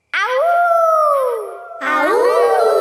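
Cartoon characters imitating a wolf howl with their voices, two loud, close, drawn-out 'ow-oh' calls one after the other, no other sounds.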